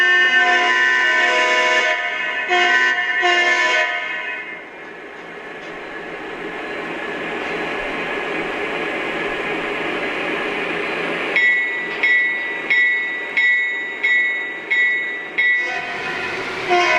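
A Lionel Vision Line GE Evolution Hybrid model train runs with a steady rumble, opening with a few horn blasts, then a run of short rhythmic horn toots near the end.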